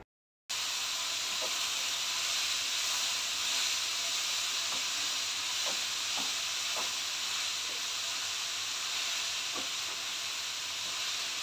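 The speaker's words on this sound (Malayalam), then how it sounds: "അപ്പോൾ കറിവേപ്പിലയും കൂടെ ഇട്ടിട്ട് ഇതെല്ലാം കൂടെ ഒന്ന് വഴറ്റിയെടുക്കാം" Curry leaves and pickle ingredients for a lemon and date pickle sautéing in a pan, a continuous close sizzle and hiss with a few light scattered taps from stirring, no voices.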